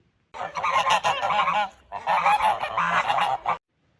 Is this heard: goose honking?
yes